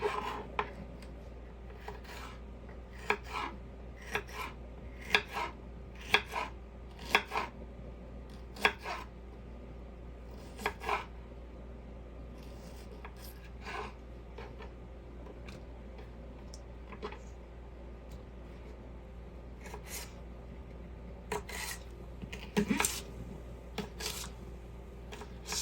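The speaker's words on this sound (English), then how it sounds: "I'll cut these in half, because everything will shrink up a little bit whenever you're cooking it" A knife slicing food into strips on a board in a tiny kitchen, a long series of faint, sharp cuts and taps at an uneven pace over a low steady hum, with no talk.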